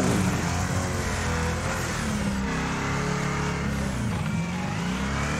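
A video game racing car's engine roars at full throttle, a loud sustained rev with shifting pitch that holds steady from start to finish.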